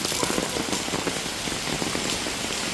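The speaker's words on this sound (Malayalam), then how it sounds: "ഭയങ്കര മഴ" Heavy monsoon rain pours down in Lakshadweep, a dense, steady hiss of drops drumming on surfaces that continues without a break, fairly loud and close, with no talk over it.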